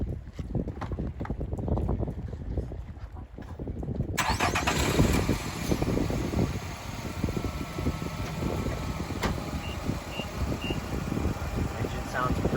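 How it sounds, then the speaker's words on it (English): A used car's engine cranks and catches around four seconds in, then settles into a quiet, steady idle, with voices talking intermittently over it. "Engine sounds pretty quiet."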